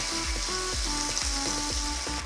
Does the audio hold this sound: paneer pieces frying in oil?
yes